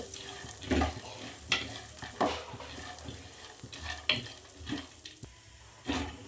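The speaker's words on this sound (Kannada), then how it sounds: "ಈ ಥರ ಸ್ವಲ್ಪ ಫ್ರೈ ಮಾಡ್ಕೋಬೇಕು" Dry fruits frying and being stirred in ghee for a laddu, with repeated scraping strokes of a spoon over a soft, steady sizzle at moderate, close range.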